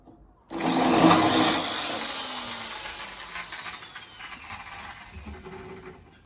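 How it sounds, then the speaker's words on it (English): Drill boring through masking tape into metal on an engine build, a sudden close whirring burst that winds down gradually over several seconds. "I'm going to drill a hole on a bit of masking tape, drill a hole, and then I'm literally just going to screw these in with self-tapping screws"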